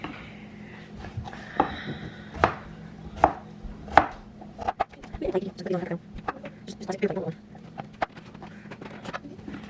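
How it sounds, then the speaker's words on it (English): Knife chopping potatoes into little cubes on a board, a series of sharp close knocks in an irregular rhythm, loudest early on, with a voice talking at times underneath. "So I'm just going to cut them kind of in little cubes."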